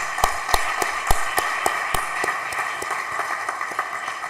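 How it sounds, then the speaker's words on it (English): A small conference audience at a young forest researchers' meeting claps for the speakers, with sharp, fairly regular hand claps that start strong and thin into softer, scattered claps toward the end. "let's give a hand of applause for the speakers."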